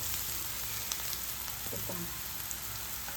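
A soft, steady sizzle of a tempering frying in hot oil for tomato chutney, fairly quiet, with a faint clink or two and no talking.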